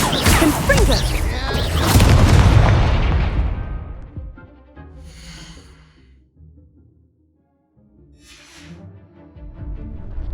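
A loud Confringo fire-blast spell explodes in Hogwarts Legacy with a heavy roaring boom that slowly decays over several seconds, followed by quieter whooshes and softer magical bursts.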